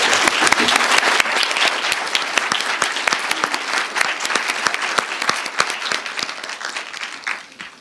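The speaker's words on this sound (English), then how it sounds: "a round of applause for this crew" Audience applause for a panel at a transportation symposium: dense, sustained clapping from a sizable crowd, steady and full for nearly the whole stretch before tapering slightly at the end.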